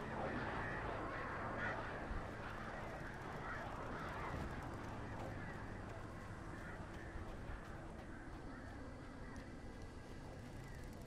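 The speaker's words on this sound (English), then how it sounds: "Are those the birds? All that crazy noise." A dense, chaotic din of crows cawing in the video game Alan Wake Remastered, heard as a steady, busy wash of harsh calls with no talking.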